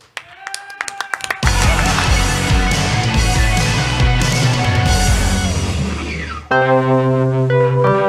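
Audience at a show at the Record Bar in Kansas City, Missouri, breaking into loud sustained applause and cheering after scattered early claps, then giving way to a band tone near the end.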